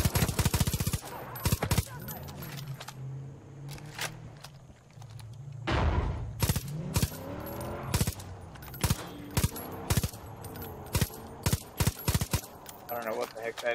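Enemy gunfire in the video game Far Cry 5 rips out in sharp, loud bursts and rapid automatic volleys, separated by short gaps, with a voice talking in the background.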